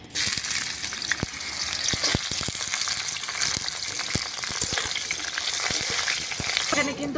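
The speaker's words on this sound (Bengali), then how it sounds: "আমি করলাগুলোকে ভালো করে ভেজে নেব" Continuous oil sizzling and crackling as bitter gourd fries in a pan, with scattered sharp pops and occasional stirring scrapes, close and steady.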